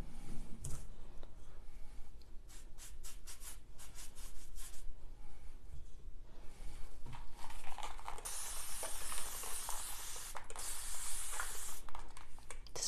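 Patina solution is sprayed from a bottle onto metallic paint in short hissing bursts, then in a longer, steadier spray, soft and close, with small rubbing and handling noises between the sprays.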